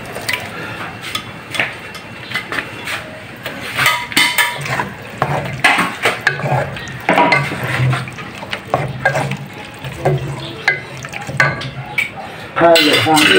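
Food stirred in a pan with a utensil, irregular close scraping, clinking and soft wet sloshing, with people talking over it at times.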